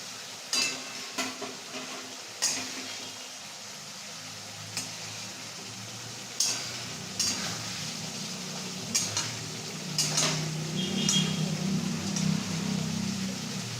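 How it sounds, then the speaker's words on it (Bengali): Fried eggs being stirred into a thick tomato curry gravy in a pan, with repeated scraping and clinking stirs and a soft bubbling sizzle that grows louder toward the end. "মা এখানে যে ডিমগুলো ভেজে রেখেছিল নুন দিয়ে সেগুলো এর মধ্যে অ্যাড করছে"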